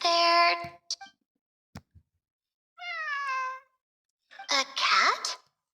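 A cat meows in the video game Genshin Impact, several clear, close mews and a stretched call spaced over a few seconds, with short clicks and quiet gaps between them.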